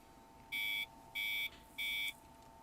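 An alarm sounds three evenly spaced electronic beeps, each lasting about a third of a second, shrill and clear over a faint background hum.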